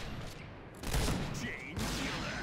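Rapid bursts of gunfire from a Sheitec gun in a first-person shooter video game, loud and close, layered with dense in-game action and a voice talking over it.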